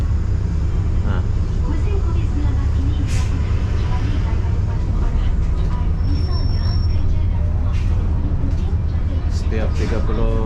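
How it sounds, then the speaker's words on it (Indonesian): A full free city bus rolls through Kuala Lumpur at night, its engine and road rumble loud and constant inside the cabin while someone talks over it. "Ini adalah bus gratis penuh."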